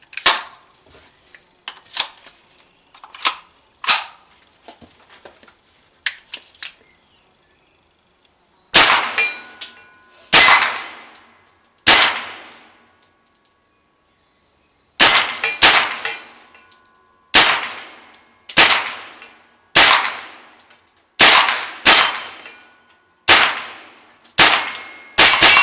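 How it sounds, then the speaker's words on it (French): Sharp metallic clangs from .22 Long Rifle bullets striking a reactive steel target, the TANGO II, heard from a distance as sparse single hits and then a steady series of ringing impacts, with no talking. "Donc, on va tirer seulement à 3 calibres, le 22 long rifle d'une arme d'épaule et 9 mm L45."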